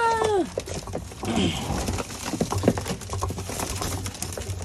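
Pigeons feeding on scattered food, with soft pecking and fluttering close by, a brief bird call at the start and low murmurs and rustling throughout.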